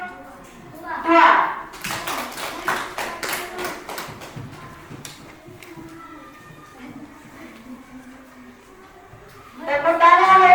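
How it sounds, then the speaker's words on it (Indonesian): A class of schoolchildren claps for a presenting group, with a rapid run of applause early on that fades into scattered taps and murmuring, and a teacher's voice speaks at the start and end. "Tepuk tangan untuk kelompok 2, presentasinya sangat bagus sekali."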